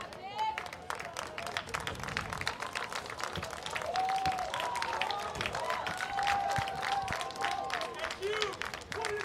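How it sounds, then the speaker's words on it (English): Team 91 fans at a lacrosse national championship game clap and cheer in a scattered crowd, heard at a distance under a commentator's talk. "91 faithful starting to cheer"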